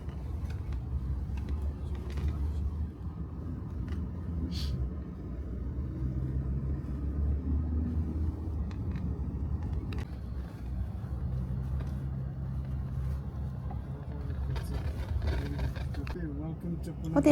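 Low, steady rumble of a car interior on the drive from Punakha Dzong to a hotel in Bhutan, with faint creaks and occasional knocks throughout.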